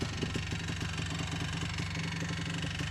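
A rare three-wheeler idles while warming up, spitting a little oil out the exhaust. The engine gives a steady, rapid, loping pulse up close, running alone with no talking.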